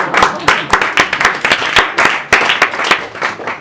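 Audience at a stand-up comedy show claps in a loud, uneven burst of applause with sharp individual hand claps, and a voice is heard over it.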